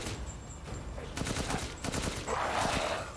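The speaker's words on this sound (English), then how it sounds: "Game is a bit loud again with the shooty bang bang." Gunfire in the video game Resident Evil Village: a brief volley of quick shots in a cluster over a steady game backdrop, with faint talk around it.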